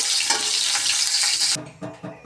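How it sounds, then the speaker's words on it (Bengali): Cauliflower frying in a pan gives a steady, close hiss of sizzling for about a second and a half, then drops to a quieter crackle with a few stirring scrapes, and nobody speaks. "তার জন্য ফুলকপিগুলোকে ভালোভাবে ভেজে নিয়েছি"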